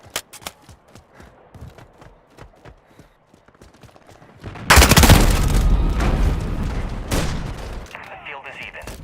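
Video game combat erupts midway into a dense, loud burst of rapid gunfire and booming shots, preceded by scattered clicks and quieter sounds, with intermittent voice chatter around it.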